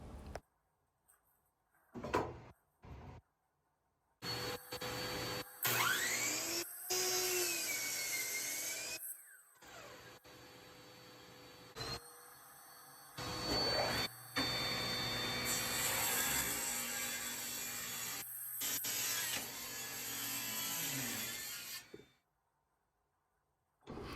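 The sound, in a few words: table saw ripping 2x lumber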